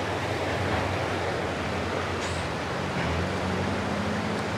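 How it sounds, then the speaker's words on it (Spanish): Río Blanco runs swollen after heavy rains near a bridge in Santa María Zacatepec. Its water rushes with a dense, steady broadband roar throughout, loud and unbroken, with no voices over it. "miren cómo creció el río"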